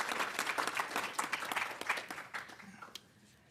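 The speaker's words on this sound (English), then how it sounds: "let's just give a round of applause to all of our three scientists and our facilitators as well." Workshop audience applause for three scientists and the facilitators: brisk, dense clapping that thins out toward the end and fades to near silence.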